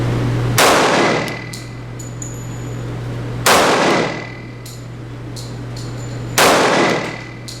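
Three loud, sharp reports from a Walther PPQ 45 pistol at a shooting range, spaced about three seconds apart, each with a ringing decay and faint metallic clinks of ejected brass in between.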